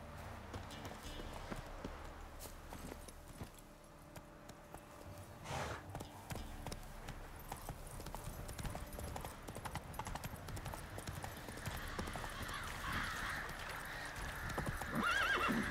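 Horse hooves clip-clopping at a run with a whinny and neigh in The Witcher 3 video game, close and continuous over game ambience, with brief speech alongside.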